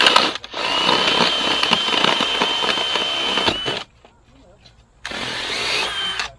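A power drill with a bit fitted runs loud and steady for several seconds, stops briefly, then starts up again, during concrete work at a construction site.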